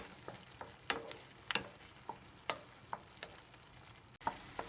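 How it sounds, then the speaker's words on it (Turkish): A utensil stirs tomatoes with salt and red pepper in a sizzling frying pan, giving a steady frying hiss broken by irregular scraping clacks against the pan, close up with no talking. "Karıştırıyorum şöyle kısa bir süre."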